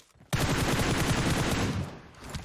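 Dense burst of automatic gunfire and rapid shots in the battle-royale game PUBG, erupting suddenly after a brief quiet and continuing loud and steady for about two seconds before easing slightly, with no talking.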